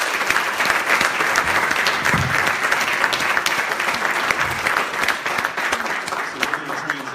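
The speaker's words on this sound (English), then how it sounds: "let's go ahead and applause for" An audience at a Baltimore grassroots Black Legislative Agenda Day event applauds, loud dense clapping sustained throughout and fading slightly toward the end, with no voice over it.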